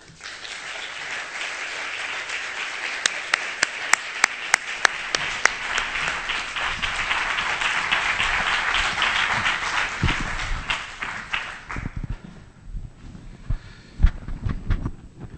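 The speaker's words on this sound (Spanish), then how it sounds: "Demos la bienvenida con un caluroso aplauso a Pedro Ugarte e Iban Zaldua." An auditorium audience at a literary conversation event applauds to welcome the speakers, a sustained wash of clapping with a few sharp nearby claps, then fading out as scattered sounds and light movement follow.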